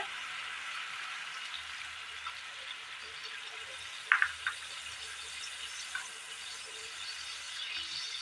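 Leftover red-chili sardine curry gravy goes into a hot pan, giving a steady soft hiss of liquid with a few small clicks and splashes midway, with no voices.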